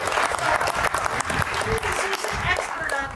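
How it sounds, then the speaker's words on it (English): Audience applause at a keynote talk at a treehouse conference, a steady sustained clapping from a crowd filling the whole stretch, with some voices mixed underneath. "Clap for her."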